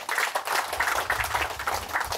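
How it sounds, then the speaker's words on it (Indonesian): Applause from a gathered crowd at a site inauguration, honouring a man. Steady, dense clapping continues for about two seconds at moderate loudness, with mid-range patter and a low rumble of the outdoor crowd beneath it. "Kita tepuk tangan dulu buat Bapak ini."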